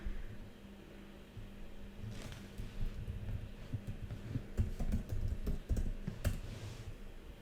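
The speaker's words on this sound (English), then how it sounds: "I can just type a lot of text in here" Fingers type text on a computer keyboard, a quiet, uneven patter of key clicks that thickens into quicker bursts partway through.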